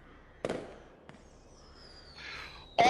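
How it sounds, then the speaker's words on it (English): Fireworks in a sound effect, a couple of sharp pops and crackles with a rising whistle between them, ending on a loud burst. "All of you hear a cacophony of fireworks."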